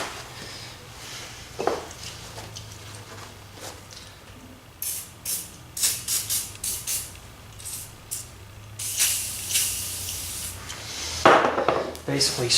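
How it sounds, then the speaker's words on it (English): Aerosol WD-40 sprayed over an old Martini Henry Mk IV rifle in a series of short, sharp hissing bursts, fairly close, with some handling and rubbing noises between them. "Basically spray the whole freaking thing down with WD-40."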